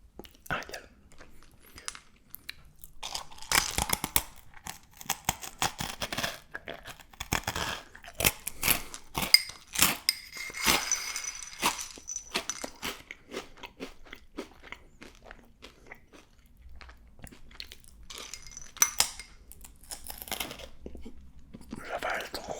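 Dry cat kibble is crunched and chewed close up in a soft ASMR style, with irregular crisp bites and crackles spread throughout and quiet whispery breaths between them.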